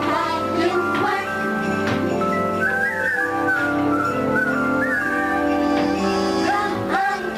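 Melodic whistling carries a tune over a full band accompaniment in a festive Disneyland Christmas song from 1976, the whistled line gliding steadily through the middle of the music.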